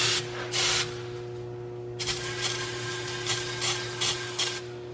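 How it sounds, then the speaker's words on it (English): Brake cleaner sprayed from an aerosol can onto an engine oil screen of an EcoDiesel engine, in short close hissing bursts: two quick blasts, a pause, then a longer run of pulsing sprays. "Now I'm just taking some brake cleaner and I'm just practicing my aim"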